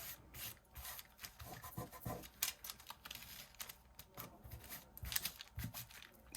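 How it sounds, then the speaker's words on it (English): Fingertips rubbing paper down onto a junk journal page, a soft dry scuffing that comes in short bursts with brief pauses, close and fairly quiet. "See how I'm rubbing it with my fingers?"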